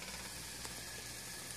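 Soft, steady sizzling of a turkey burger frying in a pan, quiet and continuous with a faint crackle.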